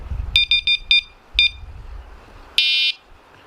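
A Sonik SKX carp fishing bite alarm sounds a series of short, sharp electronic beeps close by, then one longer sustained tone, with quiet gaps between.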